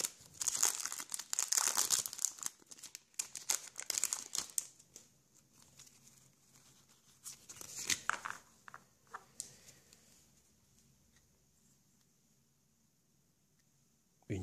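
A Pokémon Platinum trading card booster pack wrapper being torn open and crinkled, loud close crackling foil through the first seconds, another burst of crumpling midway, then fading to quieter handling.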